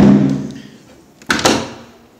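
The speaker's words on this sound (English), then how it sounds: "So our solution here is gonna be to shut this door." An indoor door is pushed shut and closes with a solid knock and a short rattle, heard close by, after a low rumble at the start.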